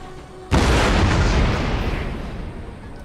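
A cannon fires in Napoleon: Total War, a single heavy boom that erupts suddenly and rolls into a long, rumbling decay lasting several seconds.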